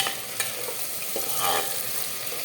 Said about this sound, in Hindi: अभी गया इसमें लहसुन और आदे का पेस्ट। अभी इसको ऐसे ही आप भूनते रहिए